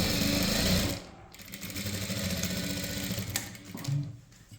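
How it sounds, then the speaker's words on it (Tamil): A sewing machine stitches a blouse seam in short runs. It whirs briefly, pauses, then resumes with a longer steady burst before stopping. "இப்போது இதிலேருந்து இது வரைக்கும் தையல் போட்டுக்கலாம்."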